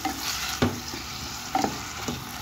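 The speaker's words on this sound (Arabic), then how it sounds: "انا درت هنا شويه ديال زيت الزيتون كيف ما عفوا زيت النباتيه في هذه الكميله هذه، وغادي ندير الدجاج ديالنا" Chicken filling fries in vegetable oil in a pan, a steady soft sizzle broken by a few sharp scraping stirs of a utensil, heard close with no talking.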